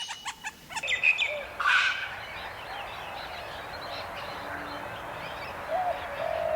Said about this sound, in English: The smallest of the miners, aggressive, territorial like others, can be found on the Great Dividing Range down to Melbourne.